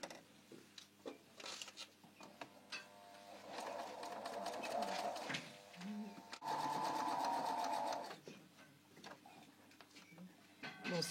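A domestic sewing machine stitches in a zipper in two sustained whirring runs, with clicks and handling noise between bursts and someone speaking quietly at times.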